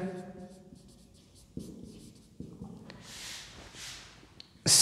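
Chalk or marker scratches out a formula on a classroom board in quick bursts of strokes and taps, close and moderately loud, with brief rubbing at the end.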